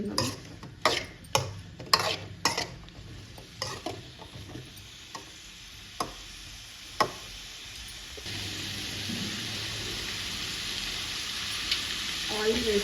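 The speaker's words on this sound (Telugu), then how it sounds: "ఇప్పుడు నేను కొంచెం ఆయిల్ వేసుకొని అయితే వేయించుకుంటున్నాను" Food fries in a little oil in a home kitchen pan. Sharp stirring clacks come first, and then a steady soft sizzle carries on alone.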